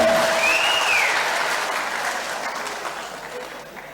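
Applause from an audience at a Nepali political gathering, a broad dense wash of clapping that is loudest at the start and slowly thins toward the end, with a whistle-like tone sliding across it early on.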